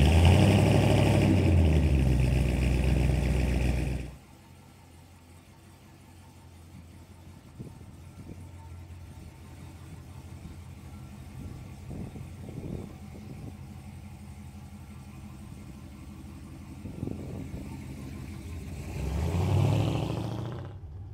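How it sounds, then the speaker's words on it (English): A 1968 Chevrolet C10 restomod pickup's V8 engine hums steadily while driving, a low rumble with occasional revs, preceded by a louder burst of engine noise at the start. "we're now out in the 1968 C10, taking it for a drive"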